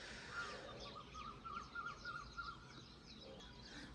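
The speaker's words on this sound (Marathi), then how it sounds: "सगळे पक्ष्यांचा आवाज येते सकाळ सकाळी मस्त." Birds chirp in the early morning near an open house doorway, with soft, repeated high tweets over a steady faint background hum of insects.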